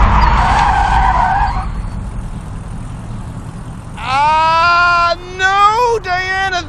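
Car tires skidding and squealing as the vehicle spins out after braking mid-swerve on a driving course, a loud rising screech with wavering pitch, broken into several bursts, following an earlier stretch of talk.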